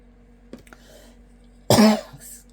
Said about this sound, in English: Please pardon my coughing.